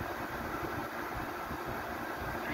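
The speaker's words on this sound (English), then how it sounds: "The fan's kind of noisy, but it's an Electrolux built Frigidaire." An Electrolux-built Frigidaire 6500 BTU window air conditioner with a noisy fan runs steadily, giving a constant broadband whoosh with a low rumble underneath and no voices.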